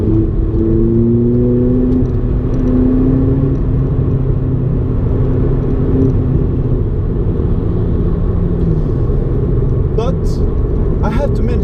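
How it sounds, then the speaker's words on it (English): The turbocharged four-cylinder engine of a Volkswagen Polo GTI hot hatch hums and rumbles steadily from inside the cabin with some rising tones, while a person talks over it throughout. "This is a turbocharged engine, and that's how it's done nowadays. It's a 4-banger turbocharged engine."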